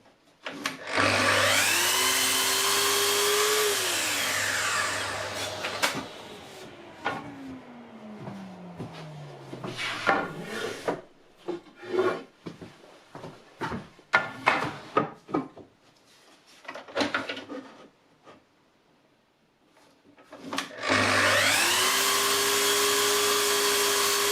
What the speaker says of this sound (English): I'll start by cutting one end square on all of the pieces that make up the back panel.